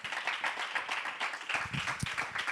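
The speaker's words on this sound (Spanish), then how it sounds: "Dele un aplauso al Señor." A church congregation claps together in a fairly soft, steady burst of applause, with a few louder individual claps toward the end.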